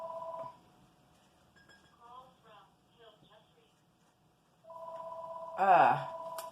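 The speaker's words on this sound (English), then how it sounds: "so I am getting a phone call that I have to take" A phone ringtone sounds in short electronic bursts, fading between rings, then returns louder with a warbling tone at the end.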